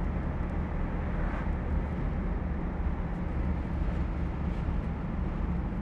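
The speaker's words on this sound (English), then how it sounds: "Car has nice acceleration." A 1985 Chevrolet Camaro IROC-Z pulling away from a red light, its engine a steady, dense rumble heard from inside the cabin, with no talk over it.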